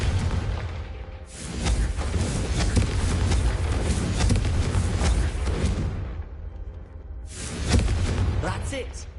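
Confringo spell explosion in the game Hogwarts Legacy, a heavy booming blast with a long rumbling tail, then a second sharp burst near the end, with game voices speaking over it.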